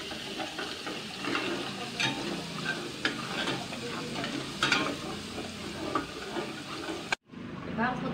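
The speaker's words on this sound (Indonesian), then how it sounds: "Apinya kita kecilkan dulu sampai wanginya kecium, harum, bawang putihnya agak kuning-kuningan" Garlic frying over low heat gives a steady, close sizzle with a soft crackle throughout. Occasional clinks and scrapes of a utensil stir through the pan, and the sound cuts out sharply near the end.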